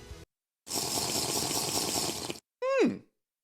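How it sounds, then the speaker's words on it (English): A quick sip of water, starting with a short broadband slurp followed by a brief swallow or satisfied exhale, close and alone in otherwise silent surroundings. "Let me just get a sip of that refreshing water"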